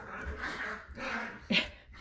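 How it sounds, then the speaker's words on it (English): Several dogs bark and whimper a short distance away, playful and uneven, with a sharper yelp near the end. "Don't mind the dogs in the background."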